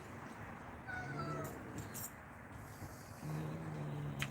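A cat gives two faint, drawn-out meows in a quiet room, one early and one near the end.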